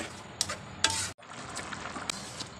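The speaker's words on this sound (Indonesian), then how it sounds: "bunda masukkan bumbu dia goreng goreng sampai garing" Spice paste for Malaysian rendang frying in a pan, a steady broad hiss with a few sharp clinks from stirring against the pan. No talk is heard.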